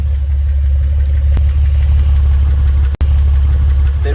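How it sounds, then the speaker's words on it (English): A Porsche engine idles steadily with a rapid, even ticking from the lifters running through the rumble, close up and loud. "There is a tick coming from the engine."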